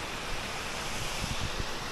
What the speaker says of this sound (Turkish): Şimdi mini şelalemize geldik şu anda.